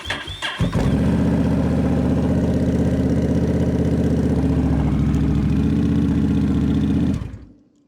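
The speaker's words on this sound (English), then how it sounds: "So let's start the bike and see what it sounds like." A Honda Rebel 1100 motorcycle, unstarted for about a week, cranks briefly, then catches and settles into a loud, steady, close-up idle with a deep, throbbing rumble that runs for several seconds before cutting off abruptly.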